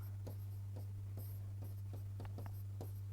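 Marker or chalk strokes on a board, short scratchy swipes at an uneven pace over a constant electrical hum, near and faint, with no voices.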